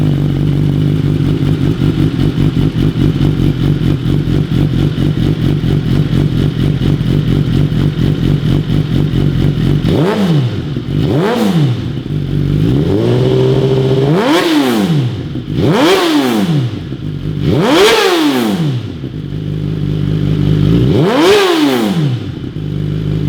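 A 2018 Suzuki GSX-R1000 sportbike with a titanium full exhaust idles steadily, then is revved sharply several times in quick bursts, each climbing and dropping back, loud and close.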